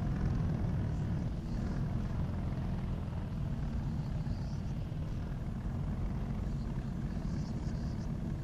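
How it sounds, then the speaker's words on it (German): Engine of the player's own bomber aircraft in the video game Project Nomads, a steady, loud, dense low drone and rumble that holds constant throughout with no talking over it. "Aber ich höre gerade nur meinen eigenen Bomber."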